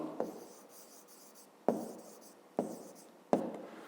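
A pen writes a number on paper in a short math exercise, scratching quietly with a few sharp taps as strokes begin, up close in a quiet room.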